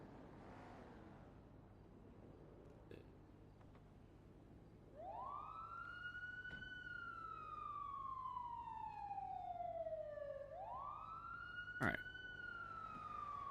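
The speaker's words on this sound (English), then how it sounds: "Oh, that's a bug siren." A police siren in the GTA V roleplay game NoPixel wails in long rising and falling sweeps, loud and clear over a low engine drone, with a brief spoken word and a sharp click.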